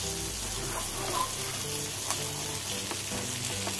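Pomfret fish frying in a pan with curry leaves, a steady close sizzle and crackle of hot oil running throughout with no talk.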